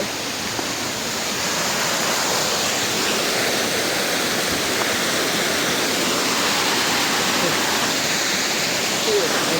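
A small waterfall beside a trail near Manichur Daha gives off a steady, close rushing roar of falling water that fills the whole stretch without pause.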